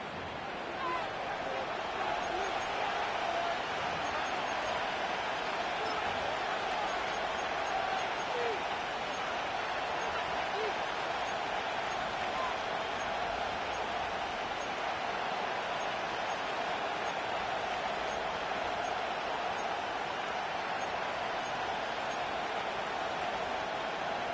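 A stadium crowd in an EA Sports NFL football video game keeps up a steady, even roar of cheering through a third-down play, heard alone without commentary.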